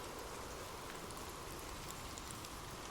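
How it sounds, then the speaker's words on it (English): Gentle, steady rain falling on leaves, a soft continuous hiss with faint scattered drop patter, even and unbroken throughout with no voices. "Imagine gentle raindrops falling softly on leaves"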